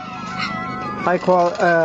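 Cartoon bird squawks and chirps from the Angry Birds game on an HTC phone, a few short tonal calls over background noise, with a louder burst of harmonic squeals in the second half.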